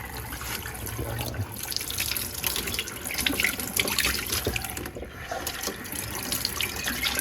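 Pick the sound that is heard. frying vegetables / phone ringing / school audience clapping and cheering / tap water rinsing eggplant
tap water rinsing eggplant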